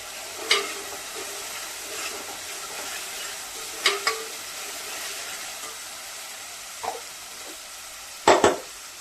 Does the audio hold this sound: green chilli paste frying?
yes